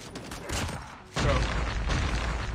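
Gunfire in Call of Duty Mobile, a KRM shotgun hipfire build, with busy continuous shooting and game effects, a louder burst of shots kicking in partway through the match.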